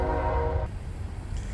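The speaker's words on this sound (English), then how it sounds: "I live right by the train tracks. I wanted to let that train go by some more." A train passing close by on nearby tracks, its horn blaring loud and steady for a moment before cutting off, leaving a low rumbling roll of the cars.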